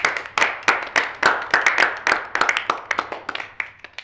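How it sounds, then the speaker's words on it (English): A small group claps for new tour guides, a sparse round of distinct, separate hand claps coming in quick, uneven succession, fairly close and clear, tapering slightly at the end. "A round of applause for all of our new tour guides."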